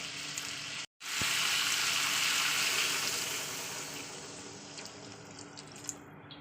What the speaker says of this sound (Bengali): তো চলুন এবার আমি দিয়ে দেবো জল